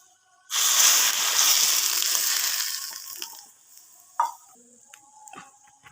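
Mustard oil tempering for sarson ka saag sizzles loudly and steadily for a few seconds, then fades into quieter crackles and a few soft clinks of a utensil.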